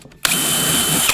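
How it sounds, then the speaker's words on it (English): A power drill with a 1/4 inch bit bores into metal in a workshop, starting abruptly after a brief quiet moment and whining loud and steady at close range. "we're using a 1/4 inch drill bit"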